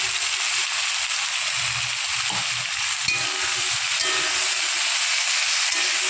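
Eggplant pieces coated in salt and turmeric frying with garlic in oil for a fenugreek-greens dish, giving a steady, bright sizzle and hiss throughout, with a few faint stirring knocks underneath.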